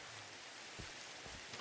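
Steady rain falling in the video game Minecraft, an even hiss of drops with a couple of faint low thumps, no voices.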